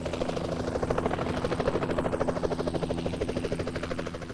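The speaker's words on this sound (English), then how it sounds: "There was a helicopter demo that shipped with a sound card that convincingly played a helicopter sound flying" Synthetic helicopter rotor sound from a PC sound card 3D positional audio demo, with rapid steady rotor chop that swells and fades slightly as the helicopter seems to move around the listener.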